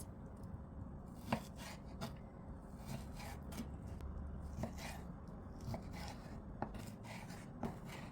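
A knife chops washed raw chicken into bite-size cubes on a board in irregular, sharp knocks, close up, several strikes spaced a second or so apart over a low background hum.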